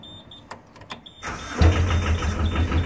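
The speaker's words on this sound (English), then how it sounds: "The engine will kick in" A ten-person dayboat engine starting: a few faint clicks and taps, then the starter cranks and the motor catches, settling into a loud, steady, close idle.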